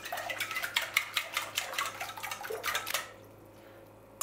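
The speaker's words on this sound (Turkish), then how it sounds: "Bu esnada yumurtanızı güzelce dağıtın" An egg is beaten briskly in a bowl with a rapid, regular tapping and clinking of utensil against the bowl, close and clear, stopping abruptly near the end and leaving near silence.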